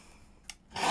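Scissors snip through paper while junk journal pockets are being made: a brief close rasp midway, then a louder, sustained cutting scrape toward the end.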